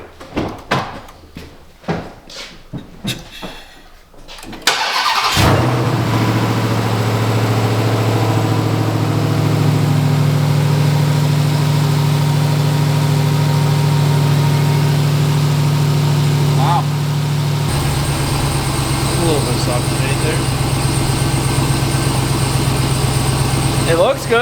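Ram TRX engine fitted with a new air intake starts with a sudden burst after a few seconds of clatter, then settles into a loud, steady, deep idle rumble that shifts tone partway through.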